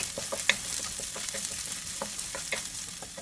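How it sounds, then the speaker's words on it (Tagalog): Garlic and onion sautéing in a pan for a Filipino pancit guisado, a steady close sizzle broken by repeated light scrapes and taps of a spatula stirring, with no talking. "ipagpatuloy lang po ang paggisa ng mga about 1 minute"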